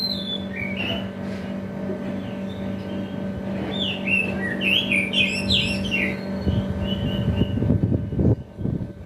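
A young oriental magpie-robin gives bright, rapid chirps and short whistled calls through the clip over a steady low background hum, close and fairly loud.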